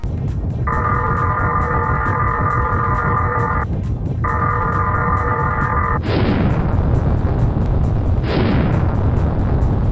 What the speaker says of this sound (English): Fire! Continue firing!